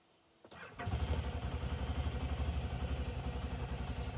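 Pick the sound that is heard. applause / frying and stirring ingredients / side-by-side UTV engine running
side-by-side UTV engine running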